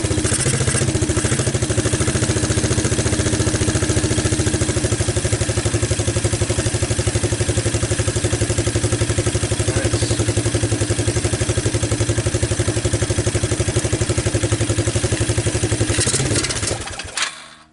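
A Suzuki Quadrunner LT230 ATV engine fitted with a PZ27 clone carburetor idles loudly and close by with a steady, rapid putter and clatter, then abruptly cuts out near the end.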